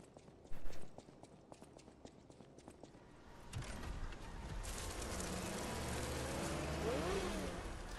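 A puppet's mechanical arm in the video game Lies of P whirs up like a revving race car engine, a rising mechanical drone after some clanking footsteps, growing steadily louder and holding to the end.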